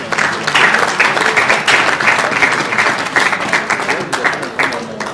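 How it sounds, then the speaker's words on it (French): An audience at an awards evening breaks into applause, a close, full burst of many clapping hands with a slightly pulsing rhythm that continues for about five seconds. "Est-ce qu'on peut applaudir pour elle s'il vous plaît?"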